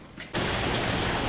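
Steady rain pours down, a dense hiss with scattered drops pattering on a surface after a brief quieter moment at the start.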